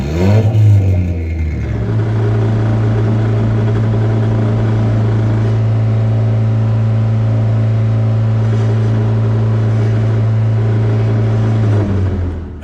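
A 1.6-liter turbocharged Mazda Miata drift car runs steadily on a dyno, its engine droning loud and close with a strong sustained low hum and rising pitch at the start, holding constant for several seconds before easing off near the end.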